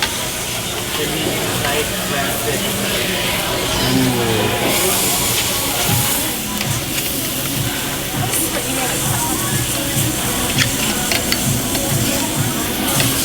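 Thinly sliced meat, including Hawaiian steak, sizzles on a grill at a Korean BBQ house in Ala Moana Mall, Hawaii: a dense, constant hiss and crackle beneath the clatter and chatter of a busy restaurant.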